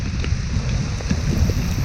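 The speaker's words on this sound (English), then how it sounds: "the rain is not gonna stop" Heavy monsoon rain pours during a solo ride on a Bajaj Dominar 400 motorcycle near Chikmagalur, Karnataka, as a steady, dense hiss of falling water over a low wind rumble, with faint scattered drops and no talking.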